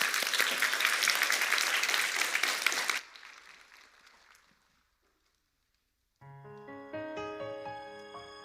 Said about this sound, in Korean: 우리 한번 박수로 환영하도록 하겠습니다.